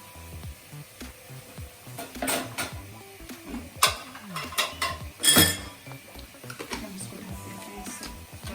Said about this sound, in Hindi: थोड़ा सा कीमे को हिला लें